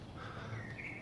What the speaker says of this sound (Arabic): صوت العصافير